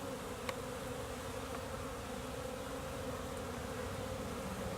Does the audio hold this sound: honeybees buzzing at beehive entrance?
yes